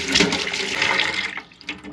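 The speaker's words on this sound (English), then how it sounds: "Okay, now we got water" Water gushes steadily from a sink tap in the interior of a 1953 Kenworth Pacific truck just after debris is cleared. The flow is close and fairly loud, then eases off near the end.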